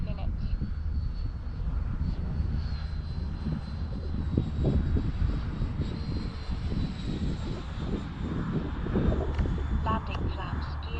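Freewing L-39 Albatros RC jet with a China Hobby 4000 unit at about three-quarter throttle, a steady sustained whine and rush holding through the whole stretch over outdoor wind noise, with a voice talking over it.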